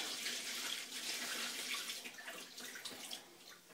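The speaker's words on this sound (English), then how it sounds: "If I empty some of this down the sink." Stout homebrew sediment is poured down a kitchen sink, a soft, steady splashing trickle of liquid hitting the basin, faint and close, with no talking.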